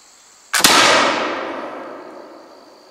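A Pedersoli Brown Bess flintlock musket loaded with a paper cartridge fires once with a sharp, loud crack, then a long booming decay that rings out over more than two seconds.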